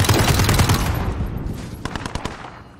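Rapid automatic gunfire in Call of Duty Modern Warfare Infected mode, a dense burst of shots that thins into scattered, sharper single cracks, loud and close with no talk over it.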